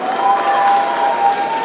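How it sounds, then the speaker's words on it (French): Audience applause at a cosplay contest on stage in Laval, steady dense clapping from a crowd, loud and continuous throughout with a faint tonal hum beneath. "On peut encore applaudir Cécile Osorus,"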